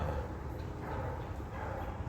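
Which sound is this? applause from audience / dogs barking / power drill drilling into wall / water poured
dogs barking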